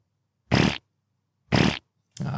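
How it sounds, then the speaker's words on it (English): A fart sound effect plays on a podcast, two separate blasts about a second apart followed by the start of a third, each loud and close with silence between them. "double fart"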